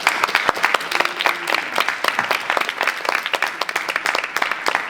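Lively clapping from an audience at a youth club celebration, crisp individual claps close by in an uneven burst that holds steady throughout.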